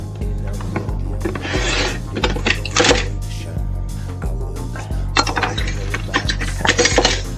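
Metal kitchen utensils clatter and jangle as someone rummages for a spoon while making Sopranos-style lasagna, with bursts of rattling clinks rising and falling over a steady low hum, loud and close.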